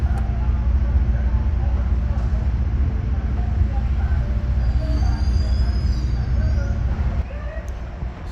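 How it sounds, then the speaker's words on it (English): NJ Transit Bombardier multilevel train with cab car leading pulls into a station platform, with a loud rolling rumble, squealing wheels, a drop in noise near the end, and people talking in the background. "another Dover-bound train pulled into Platform 1 with Bombardier multi-level cab car number 7009 leading"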